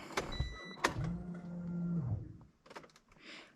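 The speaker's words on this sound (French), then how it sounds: "on entend la pompe à essence qui se met bien en route." A Nissan 350Z's newly replaced electric fuel pump whirs to life with a steady low hum for about a second, among faint clicks and mechanical noises.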